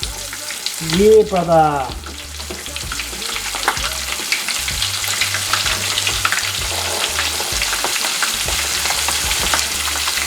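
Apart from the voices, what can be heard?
prawn heads frying in oil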